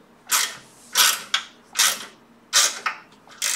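A self-tapping screw is driven into a PC case in a series of short, sharp ratcheting bursts, about six close, crisp grinding clicks with brief pauses between.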